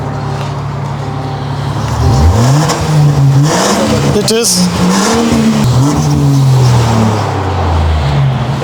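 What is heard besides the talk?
car exhaust revving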